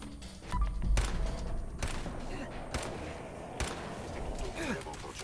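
Gunfire rings out in a post-apocalyptic video game, several sharp loud shots spaced about a second apart over a low rumble, with people speaking throughout.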